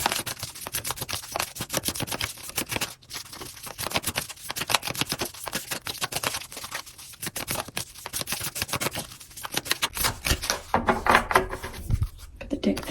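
An oracle card deck is shuffled repeatedly for several seconds, a dense stream of crisp riffling and flicking, close and fairly loud.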